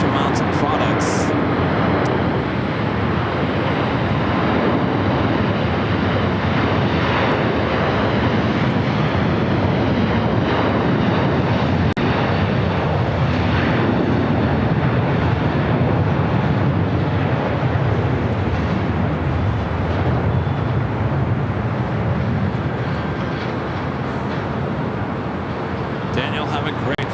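Jet airliner engines roar steadily and loudly at LAX as a departing flight bound for Doha passes, a broad sustained rumble lasting throughout while a voice talks over it.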